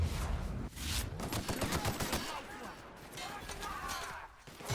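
Gunfire bursts from The Outer Worlds video game crackle across several seconds, with repeated sharp shots fading and returning at mid loudness while someone talks over them.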